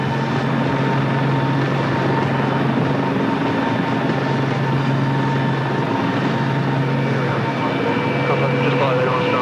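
Military aircraft engines keep running in a continuous, steady whine and hum with sustained tonal layers, fairly loud and unbroken throughout.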